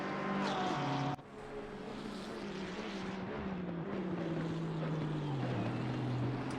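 A Porsche race car's engine drones loudly and continuously through a close racing battle, its pitch sliding down and shifting abruptly after an early break, with no speech.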